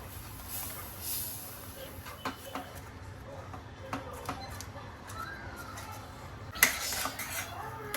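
A utensil scrapes and clinks against a kadhai in quick, irregular strokes while stirring wheat-flour halwa with sugar, over a steady low hiss, with one sharper knock near the end.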